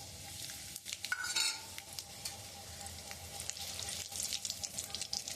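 Dried red chillies, bay leaf and cumin frying in hot oil for a rui fish curry, giving a steady close crackling sizzle with scraping stirs and brief louder spits, no voices.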